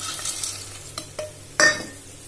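Peanuts, dry coconut and curry leaves stirred in a pan, a few close scraping and clattering strokes over a light sizzle, with one sharper knock near the end.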